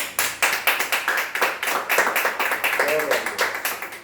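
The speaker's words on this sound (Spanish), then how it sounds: "Démosle un aplauso al Señor y glorifiquemos tu santo nombre" Worshippers at a family altar prayer service clap together in a quick, regular rhythm, each beat sharp and close, with a voice rising briefly among the claps near the end.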